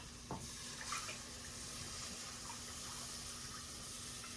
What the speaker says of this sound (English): And then we're going to add our liquid. We're going to have a total of 4 cups of liquid. But we're starting with milk.